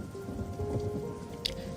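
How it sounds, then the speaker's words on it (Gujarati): Heavy rain used as a sound effect in a spoken devotional story, a dense continuous patter of drops, with one brief brighter splash. "વરસાદ ખૂબ જ પડતો હતો."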